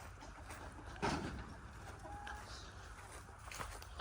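Isa Brown laying hens and ducks on a farm cluck and call faintly against steady outdoor background noise, with a few short, scattered bird sounds at a distance.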